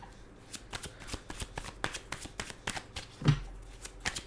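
Tarot cards being shuffled by hand in a quiet room during a midnight reading, a steady run of soft, close papery riffles and flicks with one sharper slap near the end.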